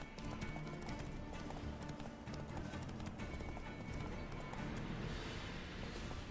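Hooves of the horse Roach in The Witcher 3, a continuous clip-clop of a trotting gait, loud and close, with an occasional whinny over a busy in-game background.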